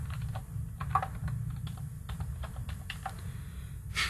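Scattered soft key clicks on a computer keyboard as text is edited, irregular light taps over a low steady background hum, close and without talking.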